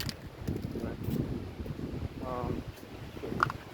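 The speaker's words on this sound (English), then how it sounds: "I'm gonna move this because it's too windy here" Wind gusts buffet the microphone with a low, rumbling roar, alone with no talk, rising and falling throughout.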